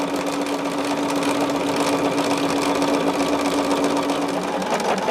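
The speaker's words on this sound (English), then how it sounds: "We're sewing this at that 1/4 inch stitch as well." A sewing machine stitching a fabric petal bag at a quarter-inch seam, running as a steady close motor whir with a fast, even needle patter and no pauses.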